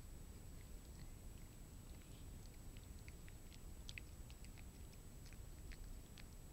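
A cat chewing green beans, with faint, soft, irregular crunching and biting clicks scattered over a quiet steady background hum, close up and without talking.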